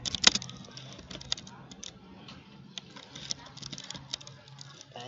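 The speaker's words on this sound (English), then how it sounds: "Going to type service." Fast, uneven keystrokes on a computer keyboard during a lab exercise, soft clicks close by with a few sharper taps, steady and continuous under a faint background hum.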